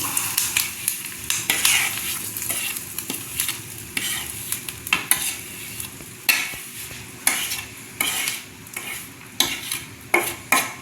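Mustard seeds hit hot oil in a pan while making a Tamil dried-fish sambal, giving a steady broadband sizzle with scattered crackles and pops and occasional stirring clinks, close and fairly loud with no talking.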